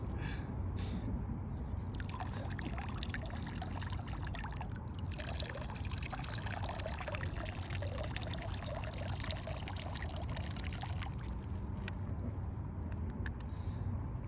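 Liquid pours steadily through a filter as a continuous, close trickle and dribble with small splashy drips, lasting throughout with no voices.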